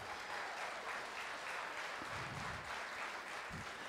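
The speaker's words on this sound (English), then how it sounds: "Go ahead, give him an applause." A cowboy church congregation applauding, a dense steady wash of clapping from many hands in an indoor hall, sustained evenly throughout.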